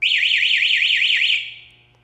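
A GENSSI two-way LCD motorcycle alarm blares a loud, rapidly warbling electronic siren, rising and falling about eight times before cutting off and fading out.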